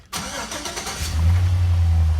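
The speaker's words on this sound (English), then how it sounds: "Turn the truck on." A truck engine cranks briefly and catches, then settles into a steady, loud, close idle rumble that holds to the end, with no talk.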